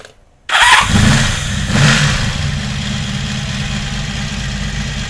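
A 1982 Honda Magna V45 motorcycle engine cranks after a brief silence, catches and fires up, then settles into a steady, loud idle with a short rev surge early on.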